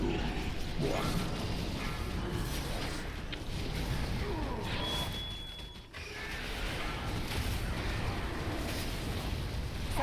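Explosions and mechanical crashes in a World of Warcraft raid boss fight, dense layered booms, creaks and grinding clatter filling the whole stretch, loud and continuous with a brief dip midway.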